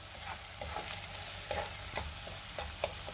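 Spiced black-eyed pea masala with turmeric, coriander powder and chili powder stirred in a pan: a soft steady sizzle with repeated scraping strokes of the spoon, close and continuous, no voices.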